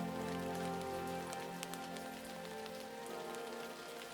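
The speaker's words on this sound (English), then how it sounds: "especially when it's raining and it's really," Steady rain patters on the surface in the Tongass temperate rainforest of Alaska, a soft continuous hiss of drops with occasional sharper taps, even and unbroken throughout with no voices.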